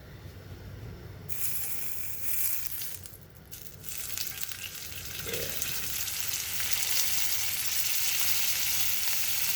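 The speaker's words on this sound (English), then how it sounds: "Our meat's only gonna cook for just a few minutes on each side. I got this pan ripping hot." Skirt steak skewers searing in a ripping hot pan, a loud, steady close-up sizzle that swells and thickens as the meat settles in, with brief scraping bumps early on.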